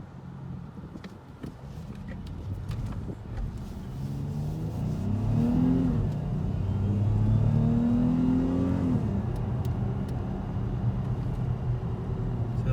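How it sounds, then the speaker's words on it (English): A 2019 Dodge Charger GT drives a back road, its engine note rising and swelling as it accelerates through the middle of the stretch and then holding steady, heard from inside the car with road noise throughout. "now we're gonna go for a drive on this back road outside of our neighborhood."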